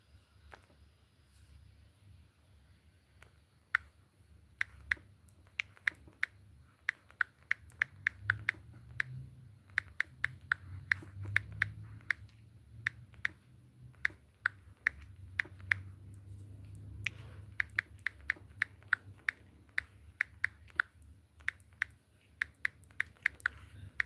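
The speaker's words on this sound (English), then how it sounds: "Let me type that question." Fingers tap steadily on a computer keyboard in a quiet room, sharp clicks coming in irregular bursts with short pauses, close and crisp over a low hum.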